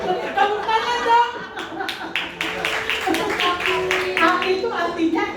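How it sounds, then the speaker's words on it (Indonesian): A church audience claps briefly, and people chuckle and talk over the scattered applause. "Kopi, tepuk tangan dong."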